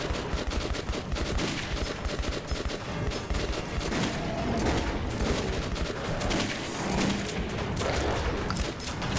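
Sustained, dense gunfire from the Metro 2033 video game: rapid overlapping shots and bursts rattle on continuously at a loud, even level for the whole stretch, with no talk.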